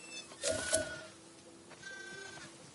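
A single sheep bleats briefly in The Last of Us Part II, fairly faint, over a quiet background with a soft steady hum.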